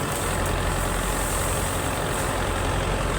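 A tractor engine idles with a steady, dense low rumble and constant mechanical noise, loud and close, unbroken for the whole stretch with no voices.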